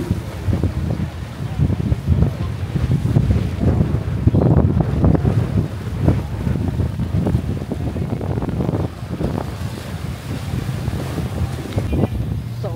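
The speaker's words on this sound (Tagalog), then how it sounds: "Napakahangin, masarap yung hangin ngayon dito." Strong wind buffets the microphone in continuous gusty rumbles at Mall of Asia, with a watery, boat-like wash underneath and no clear voices.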